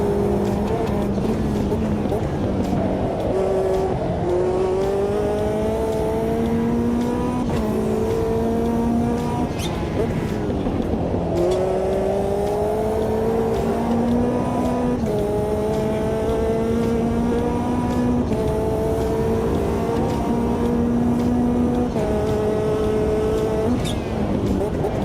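Race car engine in a racing sim game, rising and falling in pitch through repeated gear shifts as it brakes and powers out of a hairpin, loud and continuous over 25 seconds with strained tyres.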